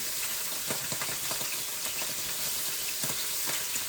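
Scallops sear in a large frying pan with a loud, close, continuous sizzle and a few soft crackles and pops.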